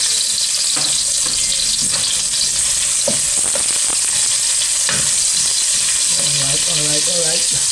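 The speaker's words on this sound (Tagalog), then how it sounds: "ilagay na natin yung ating sibuyas." Onions dropped into hot oil already frying garlic in a pan, a loud continuous sizzle with occasional stirring clatter, no one speaking.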